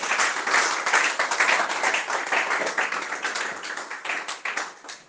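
A church congregation claps and applauds in praise of the Lord, a dense burst of many hands that is fairly close and steady, then tapers off toward the end.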